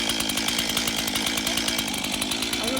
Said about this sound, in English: What I want to do now with the chainsaw